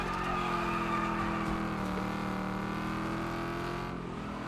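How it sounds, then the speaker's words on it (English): Race car engines roar continuously in Wreckfest 2 as another car overtakes, a loud, steady engine drone with shifting pitch and no talk. "Oh, it's a different car that's overtaken us this time."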